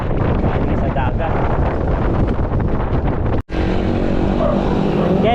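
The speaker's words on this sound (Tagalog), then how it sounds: "Malakas lang ang hangin." Strong sea wind buffets the microphone at a bridge over clear water, a loud continuous roar with a brief dropout partway through, heard from a bike ride in General Nakar, Quezon.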